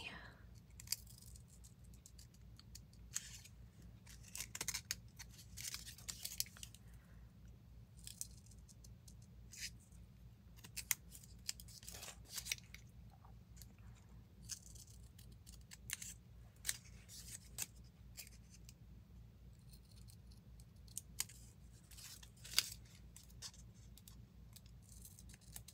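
Repeated quiet snips and crisp cutting strokes of scissors while binding a piano-hinge journal, irregularly spaced, close up over a low steady hum.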